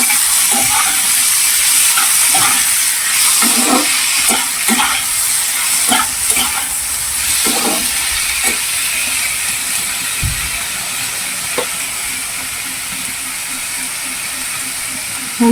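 Whole cumin, a cut bay leaf, cucumber, potato and green chilli sizzle loudly in hot oil in a pan, with a steady hiss broken by scraping stirs and clinks.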